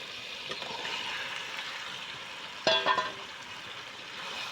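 Duck meat sizzling and frying in spiced oil in a village kitchen, a steady soft hiss with a brief clatter of stirring partway through.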